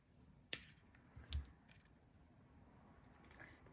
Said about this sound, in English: I'm going to cut my wire